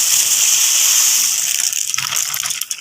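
Dry macaroni poured into a pot of cooked chicken and a little water, a close hissing, rattling pour that loosens into scattered clinks and patters at the end.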